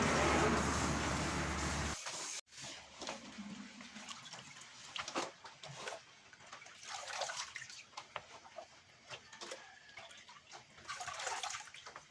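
Water running and splashing while pickled bamboo shoots are rinsed at home, a loud rushing pour that cuts off sharply, then intermittent close sloshing and swishing of shoots in a basin.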